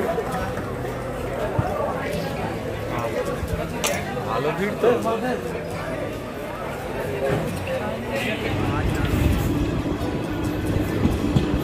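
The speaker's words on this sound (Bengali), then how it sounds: "মেসেদা স্টেশন ত্যাগ করলাম" The 15722 Paharia Express rolls out of Mecheda station with a steady low rumble and rhythmic wheel clatter, building slightly, while voices chatter inside the carriage.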